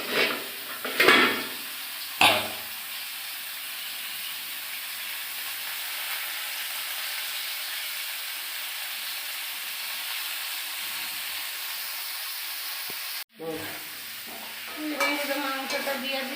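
Meat goes into a pot and cooks with a soft, continuous sizzle and hiss, broken by a few louder stirring and pot clatters near the start and end.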